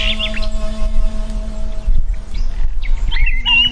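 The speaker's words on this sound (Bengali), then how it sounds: "কিন্তু বেশ কিছুক্ষণ পরেও সেই পাখিগুলো কিচিরমিচির করতেই থাকলো।" Small birds chirp and twitter close by in quick, high bursts over a low steady hum, the calls coming in short clusters near the start and again toward the end.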